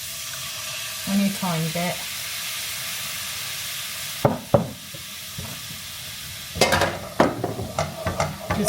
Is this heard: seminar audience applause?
no